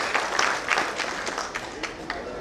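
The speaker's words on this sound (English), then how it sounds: "we need to clap ourselves for that" A crowd at a sports club centenary celebration claps in a dense, continuous patter, with many hands overlapping and heavier bursts early on, fairly close and lively.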